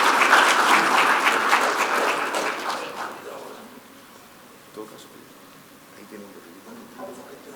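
Applause from a conference audience welcoming a panel at a security expo, loud and full at first, then fading over several seconds into scattered claps and a quiet room.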